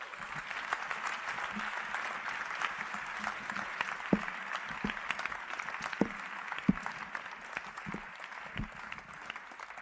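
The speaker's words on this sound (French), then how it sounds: "Applaudissez pour Jésus." A church congregation in Mampong, Ghana applauding for Jesus during a service, with continuous crowd clapping of moderate loudness and occasional sharper knocks standing out over the steady patter.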